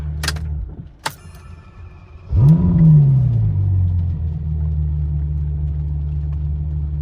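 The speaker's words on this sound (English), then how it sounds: "What I'm gonna do is I'm gonna turn the car off and then start it back up." Ferrari F12 with straight-piped exhaust restarted after showing a fault warning: a couple of clicks, then the starter whine and a loud, deep V12 bark that flares up and settles into a steady, rumbling idle close by.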